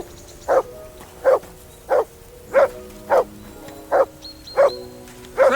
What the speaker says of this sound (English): Say something to that dog.